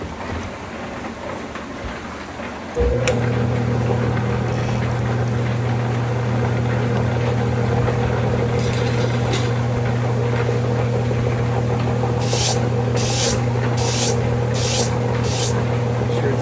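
Lapidary soft polishing disc, 50,000 grit, spinning up on Mexican lace agate with a steady loud motor hum and watery hiss, with brief scraping bursts near the end.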